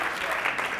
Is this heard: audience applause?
yes